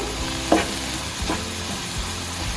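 Green chillies sautéing in a pan for a simple breakfast dish, stirred with a spoon: two or three scraping strokes over a low, steady sizzle, close by with no voices.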